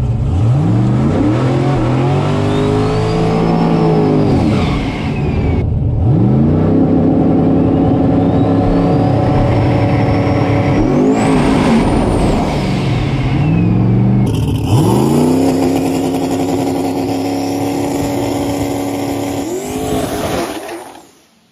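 A drag race car roars down the racetrack at a 28-inch tire shootout, its loud engine climbing through repeated gear shifts in long rising sweeps before fading at the end.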